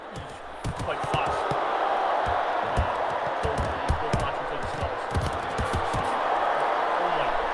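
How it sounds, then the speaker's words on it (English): A boisterous virtual arena crowd roars and cheers steadily throughout a bout in the VR boxing game Thrill of the Fight 2, punctuated by dull thumping punches, with a voice talking over it at times. "Crowd's going wild."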